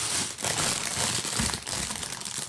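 A plastic bag of Lego pieces for the Venom 76187 set is handled and opened close up, giving continuous loud crinkling and crumpling with a brief tearing rustle.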